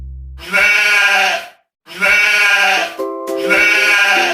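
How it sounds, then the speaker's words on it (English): A sheep bleats loudly and close up three times, each a long quavering baa separated by short gaps. "Sheep."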